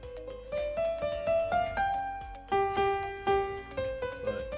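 Piano plays a short melody of distinct struck notes at a moderate pace, each note decaying quickly, with no other sounds.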